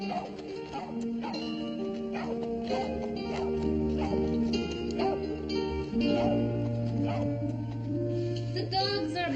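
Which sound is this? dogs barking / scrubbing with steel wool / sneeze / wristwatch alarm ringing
dogs barking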